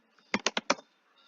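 Quick bursts of typing on a computer keyboard while writing Java code, four close, crisp key clicks in a row, then a pause before one more click, with no one speaking.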